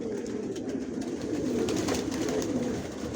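Long-distance racing pigeons coo continuously inside a loft, a soft, low, layered murmur of many birds heard close with no talking.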